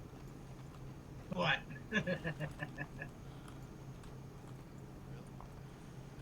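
Horse hooves clip-clop in a short burst of several quick, mid-loud steps in the Red Dead video game, over a steady background hum, with a voice speaking briefly.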